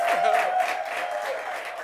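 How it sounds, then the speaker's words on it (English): Studio audience applauds guest Kcee on a TV talk show, a steady, moderately loud wash of clapping that holds for a couple of seconds with a faint sustained tone underneath. "a round of applause for him."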